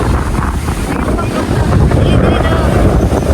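Strong, cold wind buffets the microphone in a loud, continuous roar of low rumble and hiss throughout.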